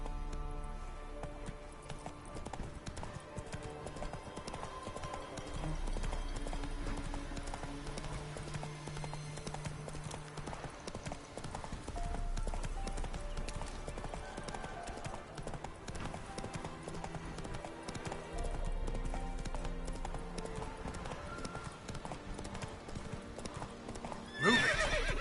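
A horse gallops in The Witcher 3, with steady rhythmic hoofbeats clip-clopping throughout over a dense game soundscape of music and ambience, and a short whinny near the end.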